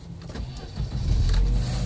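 A UAZ Patriot's engine cranks and catches after stalling, the starter whir giving way to a rising, steady rumble that builds loud and close over a couple of seconds.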